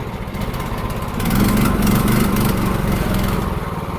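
A small tracked dumper with a manual clutch runs its engine nearby with a steady buzzing drone. It grows louder partway through and holds there, with no voices.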